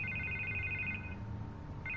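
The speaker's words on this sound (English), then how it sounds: "I can't get the phone to stop ringing" Electronic phone ring from Batman The Telltale Series, a steady warbling trill repeating in bursts with a brief gap before it resumes, fairly loud over a low background hum.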